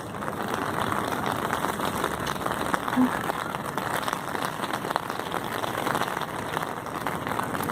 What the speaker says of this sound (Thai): ฝนตกค่ะ ฝนตก